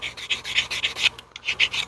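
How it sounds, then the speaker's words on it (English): Hand file rasping across a plastic model part for a Walthers Cornerstone farm supply loading dock kit, close and steady, with about a dozen quick back-and-forth strokes and a brief pause midway. "This file actually does a nicer job than that sandpaper."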